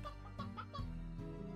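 A chicken in the video game Slime Rancher clucks in a short run of bright, pitched calls, fairly quiet and alone with no talk over it.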